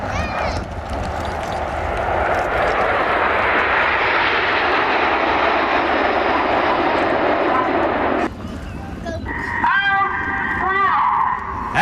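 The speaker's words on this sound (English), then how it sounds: "As the jets go upside down," Red Arrows display jets roar overhead at a seaside airshow, a loud, broad rushing engine sound that swells and holds for several seconds, then cuts away to quieter crowd ambience and a brief higher whine near the end.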